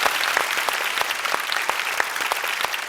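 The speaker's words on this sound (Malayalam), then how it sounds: "ഒരു വലിയ കൈയടി കൊടുക്കുക എല്ലാവരും." An audience at a senior singers' reality show claps steadily and densely after a performance, a full, even round of applause with no talk over it.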